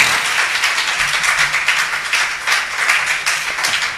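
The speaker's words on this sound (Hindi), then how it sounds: "आप सभी लोग तालियां बजा करके अभिनंदन करें" Audience applause welcoming guests at a Jain religious discourse gathering, a steady wash of many hands clapping continuously throughout, moderately loud and fairly close, with no break or voices over it.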